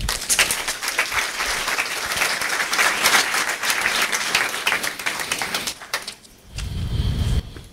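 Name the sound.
audience applause at a conference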